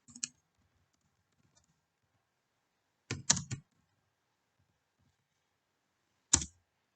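Computer keyboard keys clicked while a password is entered to log into an Oracle 11g database, with a short burst of taps at the start, a denser cluster around the middle and a single quick burst at the end, separated by quiet.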